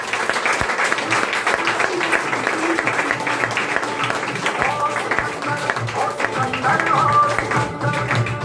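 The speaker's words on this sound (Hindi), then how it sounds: "मैं चाहता हूँ एक बार जोरदार तालियां" An audience breaks into enthusiastic applause for a couple at a celebration in Greater Noida, India, a sustained, lively patter of many clapping hands with some voices and crowd noise mixed in.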